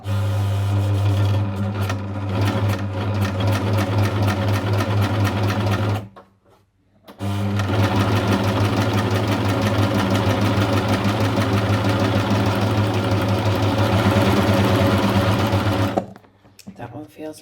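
A Jaguar Epochlock overlocker is run by hand in a fast steady mechanical clatter with a deep hum, stopping for about a second partway through and again near the end.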